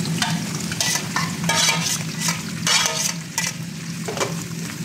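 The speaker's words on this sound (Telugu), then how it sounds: "కొంచెం ఫ్రై చేద్దాం బాగా, ఎందుకంటే నీళ్ళన్నీ ఏం లేవు కాబట్టి" Domma meat fries in hot oil in a pan while being stirred, giving a continuous close sizzle broken by repeated scraping strokes of the spoon against the pan, with no talking.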